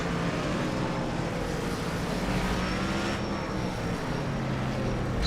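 A race car engine at Mid-Ohio roars steadily at close range, its revs rising and dropping as it downshifts into turns. The noise is continuous and there is no talking.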